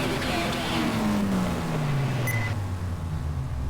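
A race car engine in a PC racing video game whines past, its pitch sliding steadily downward over a constant mechanical drone, with someone talking over it.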